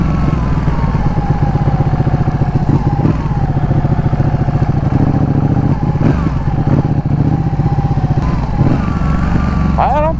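A Ducati Panigale 1199 motorcycle being ridden, its engine a loud, close, continuous rumbling drone with a steady pulsing texture that holds through the whole stretch.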